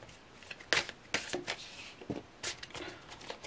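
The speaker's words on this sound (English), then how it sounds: "These cards are really hard to shuffle." Tarot cards being shuffled by hand, heard as quiet riffling bursts and soft snaps in an irregular rhythm. They are close but faint, with no talk over them.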